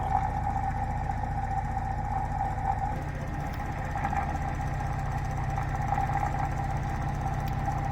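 A magnetic switching motor spinning at full power, a steady close mechanical hum with a sustained tone and constant low vibration, unchanging throughout with no voices.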